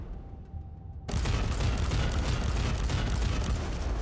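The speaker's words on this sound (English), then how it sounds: "Sprays anti-personnel frag rounds in direction of target with a wide shot spread." A frag burst weapon in Warhammer 40,000: Inquisitor – Martyr sprays anti-personnel frag rounds, starting abruptly after a brief quiet lull and continuing as a dense, loud, sustained roar of rapid blasts.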